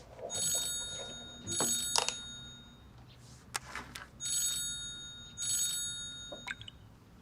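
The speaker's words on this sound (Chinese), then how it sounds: "刚才秀妍院长来电话了" A telephone rings for an incoming call, sounding four bright electronic double rings in an even rhythm, with soft clinks and knocks between them and no talking.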